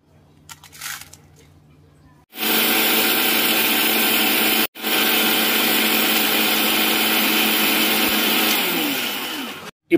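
A mixer grinder blends mustard, fenugreek, asafoetida and dried red chillies for a lemon chilli pickle, starting after a short quiet pause as a loud, steady, close whirring roar, briefly cut off once, then resuming unbroken.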